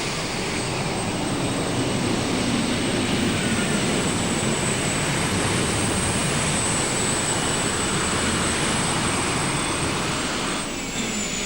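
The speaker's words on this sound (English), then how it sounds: "he's trying to get the feel of these turbines right now" A turbine-powered modified tractor at a tractor pull championship roars with a loud, continuous jet-like whine and rumble, steady for the whole stretch and heard alone without talk.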